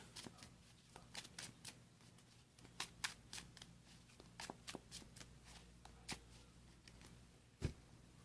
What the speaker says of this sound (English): Shuffle our deck.